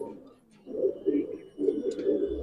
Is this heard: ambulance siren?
no